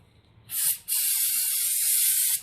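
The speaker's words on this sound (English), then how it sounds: "I'm just going to spray things down with some brake cleaner" A loud can of brake cleaner sprays onto car front brakes in two hissing bursts, a short one then a long steady blast of about one and a half seconds, close by.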